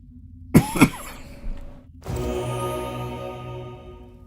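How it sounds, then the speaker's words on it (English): Two sharp coughs come close together near the start, followed by a softer throat noise, with quiet game sounds underneath and a low hum rising afterward. "Excuse my coughing."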